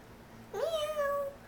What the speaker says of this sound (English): Yeah, it's a bobcat.